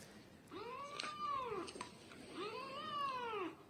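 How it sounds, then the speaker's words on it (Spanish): A kitten meows twice in long, rising-and-falling calls, fairly close and clear against a quiet background. "Y este gatito lleva 6 de sus 7 vidas sin comer."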